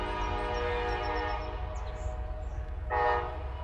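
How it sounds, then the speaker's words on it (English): A train rolls through a level crossing near a morning woodland, a steady loud rumble under a long sustained horn blast, with a brighter swell of wheel and rail noise near the end. "And you see the train going through."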